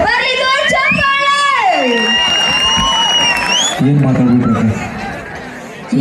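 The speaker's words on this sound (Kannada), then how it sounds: "ಬರ್ಲಿ ಜೋರ್ ಚಪ್ಪಾಳೆ." A studio audience at a television comedy show cheers and shouts with some clapping. A loud crowd roar sits under a raised voice, then fades to scattered noise.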